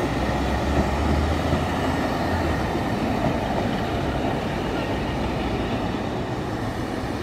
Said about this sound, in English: The delayed 1454 Transport for Wales service from Swansea to Manchester Piccadilly.